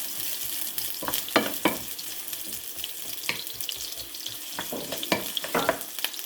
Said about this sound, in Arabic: البصل رح احطه بحمسه شوي، يدبله شوي تقريبا، مو كتير